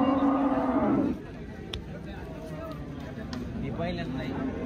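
A cow lets out a long, loud moo nearby at a cattle market in Kopargaon, followed by a fainter lowing call amid steady outdoor background noise.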